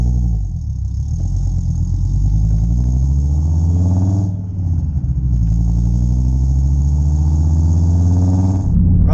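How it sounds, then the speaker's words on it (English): Ford Escort XR3i-style XR5x4 Turbo car on the road, a loud steady engine drone with gear changes and rising and falling revs heard from inside the cabin. "hopefully you can hear me over all the noisiness of the car"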